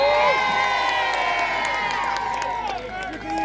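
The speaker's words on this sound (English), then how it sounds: "Let's have a cheer for Marion" A crowd at the Robin Hood Festival in Sherwood Forest cheers and shouts in a sustained, loud roar of many voices at an outdoor show, fading slightly toward the end.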